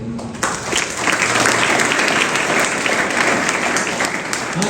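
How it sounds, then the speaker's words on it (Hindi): Loud, sustained clapping from a crowd of school children fills the room, steady and dense for several seconds, during a spiritual talk at a school in Odisha, India. "इनके लिए जोरदार तालियां"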